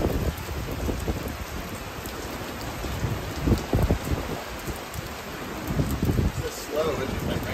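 Steady rain falls outdoors during a Florida family trip to Cape Coral, a dense, close patter with low rumbles and gusts running throughout.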